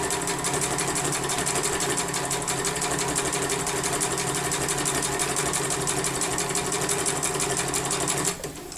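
A sewing machine doing free motion quilting hums continuously at a steady fast pace, close and alone, then cuts off near the end.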